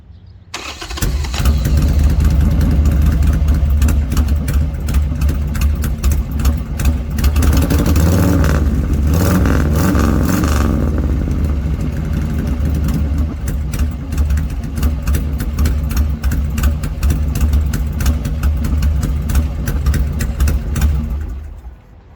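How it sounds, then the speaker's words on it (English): A Harley-Davidson Sportster motorcycle with a custom exhaust system starts up and revs, loud and close, its rumbling idle swelling through several throttle blips before cutting off near the end, with no talk. "so we can hear the exhaust system that I was telling you about"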